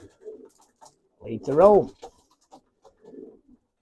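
Racing pigeons, two-year-old cocks, coo in a loft with a few soft, throaty calls and one louder, drawn-out coo in the middle, heard close up while someone talks briefly.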